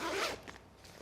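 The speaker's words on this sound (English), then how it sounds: "on the underside there's a secure zip pocket here" Quick zip of the secure pocket on the underside of a Mountain Hardwear Alpine Light backpack lid, a single close, loud rasping pull that fades within half a second.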